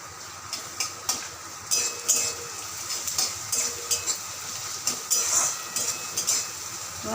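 Chopped garlic frying in hot oil for a Bombay duck (lote fish) dish, a steady close sizzle with light spatula stirring and occasional clinks of utensils, no talking.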